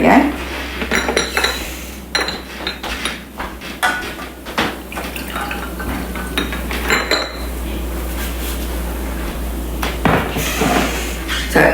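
A Thermomix bowl being washed and handled in a kitchen sink, with loud, irregular metallic clanks, clinks and knocks of the bowl and utensils, close up, between quieter rinsing stretches.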